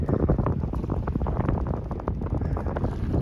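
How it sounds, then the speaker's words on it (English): Gusty wind at Port Jefferson harbor at dawn buffets the microphone with continuous low rumbling and irregular blasts, loud and close, with no voices. "The wind is blowing."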